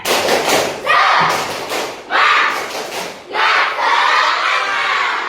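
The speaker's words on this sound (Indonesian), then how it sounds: "Tepuk semangat" An Indonesian classroom of students does a rhythmic spirit clap: loud bursts of group clapping and shouted chanting come in repeated waves, each surge followed by a brief dip.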